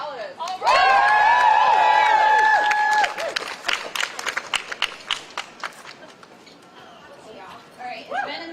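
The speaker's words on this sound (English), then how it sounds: "let's get a round of applause for Alice" A student walkout rally crowd at UT Austin cheers loudly, then breaks into sustained clapping that fades to scattered claps, outdoors with voices mixed in.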